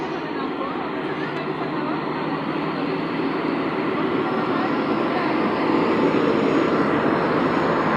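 A local train departs Poradah Junction station in Bangladesh after the 726 Down Sundarban Express is held, a steady loud rumble of rolling wheels and engine noise throughout.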